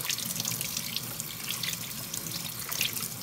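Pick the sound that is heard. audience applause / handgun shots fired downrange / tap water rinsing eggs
tap water rinsing eggs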